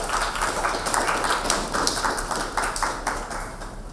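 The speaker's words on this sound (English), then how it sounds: "Big round of applause for her." Audience applauding a designer at a silk saree design launch and fashion show, steady dense clapping from a crowd throughout, fairly even and continuous.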